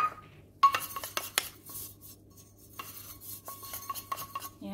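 Butter being brushed onto metal molds for cassava puto, with light clinks and taps of utensils against the pans in a quiet kitchen, irregular and close.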